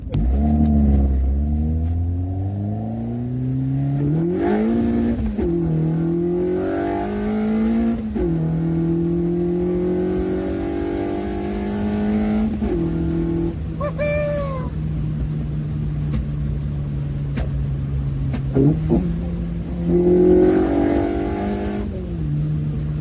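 A 90s hot hatch on the road revs hard, its engine note sweeping up and down through repeated climbs and drops, loud and close throughout with no talking.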